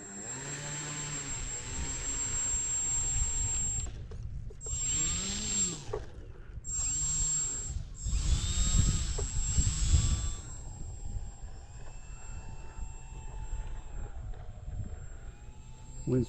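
Electric SIG Four Star 20 model airplane taxiing on the ground in gusty wind, its motor and propeller giving a steady high whine with several louder throttle surges, close to the microphone with wind noise underneath.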